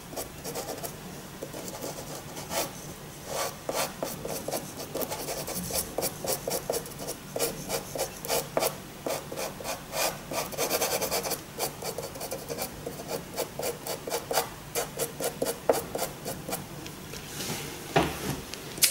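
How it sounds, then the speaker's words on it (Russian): Dry pastel crayon rubs back and forth across paper while a butterfly's wings are coloured dark brown, giving close, rhythmic scratchy strokes that repeat steadily with no speech. "Теперь берем темно-коричневый мелок и закрашиваем остальную часть крыла левого и правого темно-коричневым."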